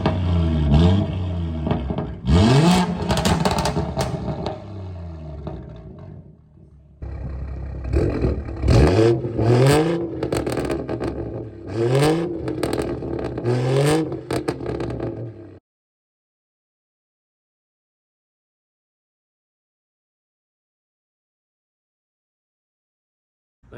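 A BMW 440i fitted with an MPPSK track exhaust revs hard in several loud, rowdy bursts with rising and falling engine pitch, a short pause between, then cuts to silence for the final stretch.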